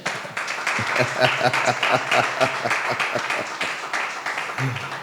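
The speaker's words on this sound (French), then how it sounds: "Est-ce que quelqu'un peut acclamer pour le Seigneur?" A church crowd applauding and cheering for the Lord, a dense wash of clapping mixed with voices and shouts, steady and moderately loud for the whole stretch.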